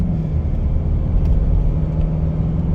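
A 2011 Mercedes C250 CDI coupe diesel engine at full throttle gives a steady, loud, low droning rumble that stays flat and never rises in pitch, with no talk over it.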